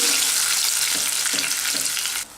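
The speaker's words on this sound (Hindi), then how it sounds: "अब इसमें डालेंगे टमाटो प्यूरे। 1 टमाटर को मैंने प्यूरे बना लिया है। मिक्स करेंगे।" Tomato puree hits a hot pan with spices and is stirred in, a loud, constant sizzle broken by a few rhythmic scraping strokes before it suddenly drops away at the end.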